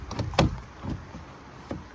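Plastic door trim panel clips on a Toyota RAV4 door pop loose as a panel is pried off, giving a few short, sharp snaps and clicks nearby. The strongest crack comes early and lighter pops follow, with quiet handling noise in between.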